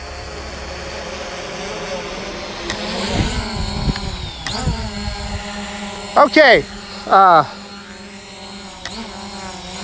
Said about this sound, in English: so let's just let the drone hover here